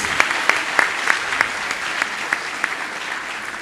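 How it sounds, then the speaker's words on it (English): Steady applause from a forum audience, dense clapping with a few louder claps standing out, lasting a few seconds without voices. "I think Ngozi deserves a very big round of applause."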